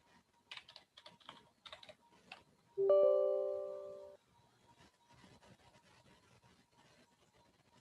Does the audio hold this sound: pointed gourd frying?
no